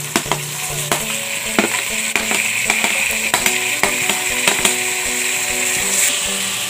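Ingredients for viraal fish curry sauté in a pan. A constant sizzle runs under regular, sharp scraping knocks of a spatula stirring against the metal, with no one talking.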